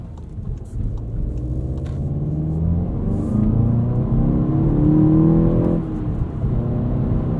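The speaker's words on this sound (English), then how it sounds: "And of course, plenty of torque and power from this 2-liter turbo." A 2016 Volkswagen GTI SE with a 2-liter turbo engine and six-speed manual gearbox, heard from inside while driving, its engine droning and rising steadily under acceleration, then briefly dropping during a shift.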